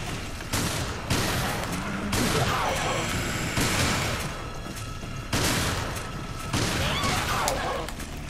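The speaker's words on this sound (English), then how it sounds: "I'm gonna blast her ass with this magnum." Heavy magnum gunshots in the video game Resident Evil Revelations during co-op Raid Mode, several loud blasts spaced about a second or two apart over continuous game noise.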